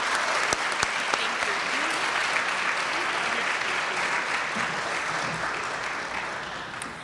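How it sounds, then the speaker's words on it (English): A full room applauding educators at a 2025 leadership breakfast, a thick continuous wave of clapping lasting about seven seconds and slowly fading, with a few sharper claps up front and murmured voices beneath. "a round of applause for all of our educators here"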